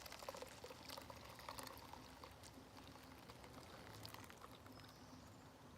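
Ground coffee dripping through a camping coffee maker outdoors in the woods, a faint steady trickle and patter of liquid with soft hiss, continuous and low.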